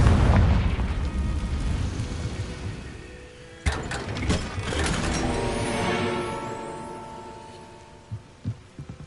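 Explosion spell cast in the video game Hogwarts Legacy: a rumbling boom with debris and crackling impacts in the middle, fading into a low rumble with a few later thuds.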